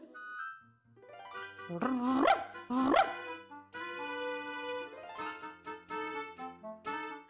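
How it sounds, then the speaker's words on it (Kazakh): A dog barks and yips in a few sharp, close bursts inside a museum setting, followed by a stretch of bright, tonal music-like sounds. "жыланның суретіне қарап неге үресің?"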